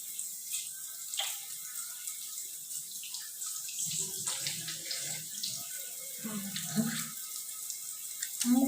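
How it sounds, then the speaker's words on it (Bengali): Hands being washed under a running tap at a sink: a steady soft hiss of flowing water, close and fairly quiet, with light splashing and rubbing that grows a bit busier toward the end. "হাতটা ভালো করে ওয়াশ করে নিলাম"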